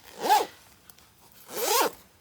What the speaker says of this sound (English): never done two zippers before, like two zipper pulls